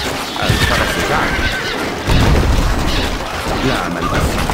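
Horse neighing and hoofbeats in the Stronghold Crusader strategy game, a dense, loud stretch of whinnies and clip-clop layered under game voices and busy battle noise.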